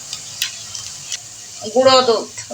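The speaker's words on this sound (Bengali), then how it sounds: "এখন মশলাটা দিয়ে দেবো।" Spices hitting a hot pan while cooking a roast give a short sizzling, stirring burst near the end, after quiet clinks and faint background sounds.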